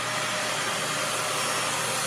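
A Dyson DC41 upright vacuum cleaner runs steadily, a loud, even broadband whoosh with a constant motor whine and no pauses or voices.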